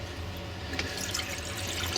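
Hot water runs steadily from a tap into the sink of a VW Autosleeper Clubman GL camper van, a continuous close wash of flow with faint drips and no talk.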